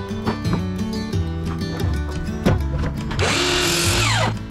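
Power saw cutting wooden boards for an outdoor end table top, a loud bright whine in the closing second or so over steady background music.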